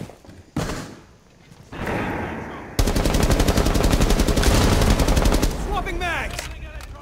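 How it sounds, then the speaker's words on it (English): A flashbang goes off during a Rainbow Six Siege match: loud sharp bangs, then sustained rapid automatic gunfire, closing with fading, ringing tones. "Throw in flashbang."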